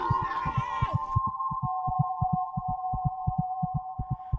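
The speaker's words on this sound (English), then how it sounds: "heartbeat sounds." A heartbeat sound effect in the Roblox game pulses in a steady, fast double-thump rhythm under a continuous low hum, with a brief burst of voices and noise at the start.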